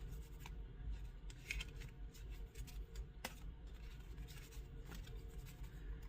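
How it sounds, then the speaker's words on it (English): Soft riffling and flicking of cards being shuffled, a quiet papery texture repeating in short bursts. "let's go ahead and do a couple shuffle"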